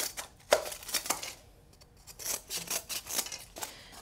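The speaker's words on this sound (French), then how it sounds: "on va juste couper les bords" Scissors snip around the edges of a plastic container in a series of crisp, uneven cuts with short pauses, close and fairly quiet, with no talking.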